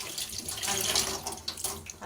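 Tap water runs steadily into a sink while wheat flour dough is washed by hand under it, a close, continuous rushing stream with slight splashy variation.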